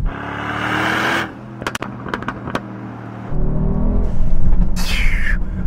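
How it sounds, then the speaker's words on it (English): A Brabus-tuned sports car's exhaust drones and then roars louder as the car accelerates, with a few sharp pops and crackles in between, heard from inside. "Now I'm moving, the exhaust on this is way better."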